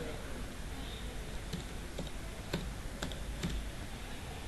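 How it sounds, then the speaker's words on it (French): Someone types a username on a computer keyboard with a handful of light, separate key clicks, spaced irregularly over a steady background hiss. "Alors ici on tape le nom d'utilisateur."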